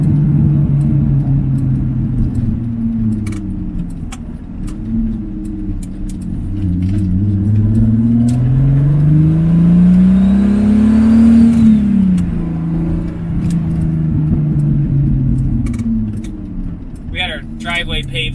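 A 1988 Pontiac Fiero with a turbocharged VR6 swap and six-speed gearbox drives on a paved driveway, its engine revving up and down in long rising and falling sweeps, loud and close, with someone talking over it.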